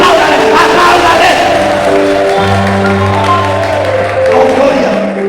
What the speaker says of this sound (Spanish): Si quieres aplaudirle a Dios, apláudale fuerte.